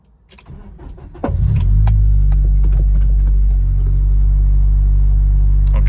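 An Acura/Honda car cranks briefly and fires up, settling into a loud, steady low idle rumble heard close by, with faint clicks and key jingles just before the start.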